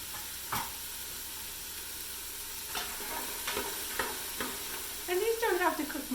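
Celery and carrots browning in a pan, a steady sizzle with a few stirring scrapes and a louder spatter of frying near the end.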